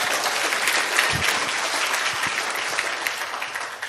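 An audience at a TIENS business seminar claps, a dense, steady wash of applause from many hands that carries on for several seconds without speech.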